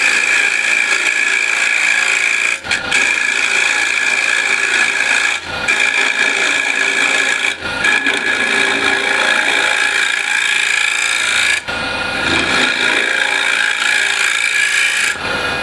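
A standard scraper rasps steadily across the inside of a wooden bowl turned on a lathe, a loud continuous scraping broken by a few brief pauses, with no talk.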